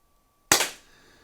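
First Strike Roscoe launcher firing a single shot: one sharp, loud crack followed by a quick second snap and a short fading tail, against near silence.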